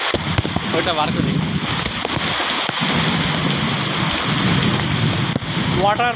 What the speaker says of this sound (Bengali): চলো ছাদে প্রচণ্ড মেঘ ডাকার আওয়াজ হচ্ছে বলে নিচে চলে আসছি